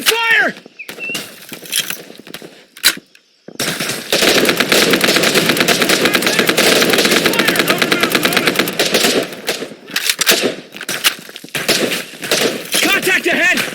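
Video game gunfire with rapid machine gun bursts rattles loudly and almost nonstop through the middle, with sharp single shots and soldiers shouting commands before and after.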